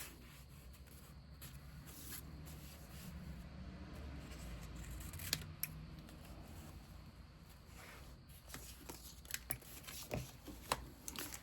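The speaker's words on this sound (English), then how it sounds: "Let's use bigger scissors. That's going to take forever." Large scissors cut through a strip of paper for an art journal with quiet, steady snipping and crisp slicing. The close, faint sound continues with a few sharper clicks and no talk.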